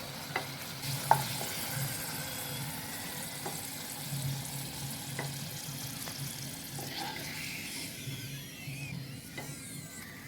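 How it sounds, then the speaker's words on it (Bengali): Sweet potato fries bubble and sizzle steadily in hot oil, a soft, even crackle at low volume with a few faint clinks near the start. "এভাবে আমি সবগুলো ফ্রাই করে নিচ্ছি।"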